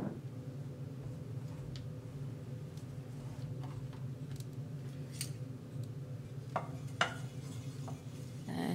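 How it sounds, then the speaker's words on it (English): Onions stirred in hot sunflower oil in a pan: soft, steady sizzling with scattered light scrapes and taps of a utensil against the pan, close by and without talk. "And just stir it."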